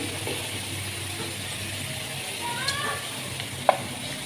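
Taro root (arvi) frying in oil in a pan, giving a steady, even sizzle with a couple of faint utensil clicks near the end and no talk.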